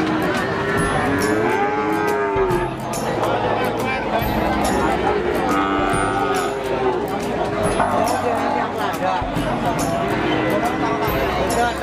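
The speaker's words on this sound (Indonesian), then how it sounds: "Sapi mbok anak dari pasar sapi Pasuruan Jagatpati Jawa Tengah." Cows and calves at a cattle market in Pasuruan, Central Java, moo repeatedly and loudly, overlapping one another above a steady bustling crowd murmur, with people talking throughout.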